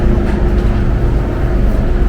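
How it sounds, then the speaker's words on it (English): Hong Kong subway train running, heard from inside a passenger car as a loud, steady low rumble and rolling noise with no talking. "one of the nice things about the subway cars here is that all cars are connected to each other"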